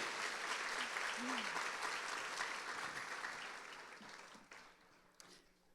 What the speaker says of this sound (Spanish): si le va a dar un aplauso a Dios por ello, déselo con toda su energía